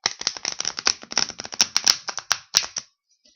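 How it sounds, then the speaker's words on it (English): Cards riffle and snap in quick bursts, crisp and close, then stop into silence near the end. "I'm going to shuffle 3 times."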